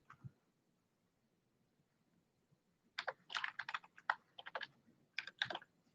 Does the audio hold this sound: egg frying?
no